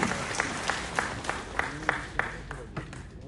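Audience applause at a book festival ceremony in Srinagar, heard as a rhythmic, near-unison series of loud claps at a steady beat over a background of crowd noise, fading slightly toward the end.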